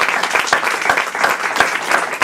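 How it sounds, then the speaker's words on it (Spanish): A congregation at an Easter Resurrection church service bursts into lively applause, many hands clapping close and loud with a few sharp individual claps standing out, no voices on top. "Denle el aplauso al Señor, aleluya."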